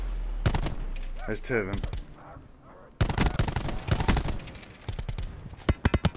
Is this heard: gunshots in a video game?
yes